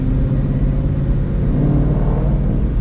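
A Ford Coyote 5.0 V8 idling loud and steady with its hood partly open, a dense low rumble and throb holding even throughout with no voices.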